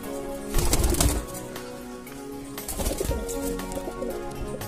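Pigeons coo close by in two loud rumbling bursts over steady background noise, with a hint of wing flutter.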